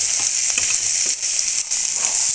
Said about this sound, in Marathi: आता सर्वप्रथम शिमला मिरची ती भाजून घेत आहे